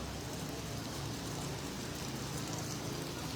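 Heavy rain falls steadily at the Marikina River as a dense, even hiss with no breaks, faint and distant-sounding, with no talk over it.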